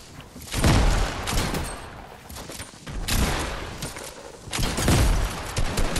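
Bursts of video-game gunfire in a squad battle-royale match, several loud volleys separated by brief lulls, with faint voices beneath.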